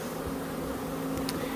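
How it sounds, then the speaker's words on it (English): Honeybees buzzing at an open hive during frame transfer, a steady low drone close by with no talk. "hopefully the bees will crawl through the hole"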